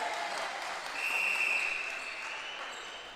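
Crowd cheering and clapping at a men's netball game between South Australia and New South Wales, a steady broad roar that swells briefly mid-way, then settles to a sustained hum of applause.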